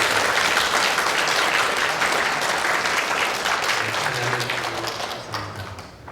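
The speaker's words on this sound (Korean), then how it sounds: "우리 박수로 축복해주시면 감사합니다" A church congregation applauds to bless and welcome a couple into the community: a dense, steady wash of many hands clapping that fills the room and tapers slightly toward the end.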